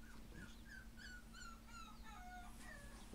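A two-day-old female puppy whimpers in a series of high, thin whines and yips, rising and falling over a steady low background hum, fairly close but soft.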